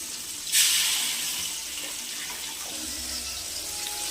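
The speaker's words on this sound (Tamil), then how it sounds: "புளி கரைசலை ஊற்றிக்கலாம்" Tamarind water pours steadily into a pan for fish curry, with a brief splashy gush at the start, then a soft continuous trickle.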